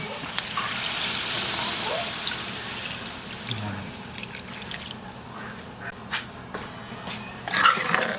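Water pours steadily into a cooking pot holding pork belly and lemongrass, a close, even rush that fades after a few seconds into quieter clinks and faint kitchen handling sounds.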